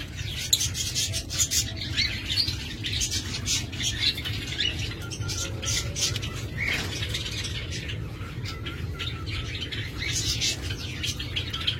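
Lovebirds in breeding cages keep up a dense, busy chorus of sharp chirps, squawks and wing flutters over a low background hum, with many birds calling at once and close by.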